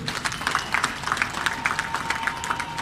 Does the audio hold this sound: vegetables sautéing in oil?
no